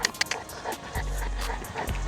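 A South African boerboel pants close by in quick, rough breaths, with faint background sounds and no clear talk.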